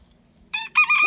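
A rooster crows loudly and close by, a short, abrupt cock-a-doodle-doo burst after a brief quiet lull.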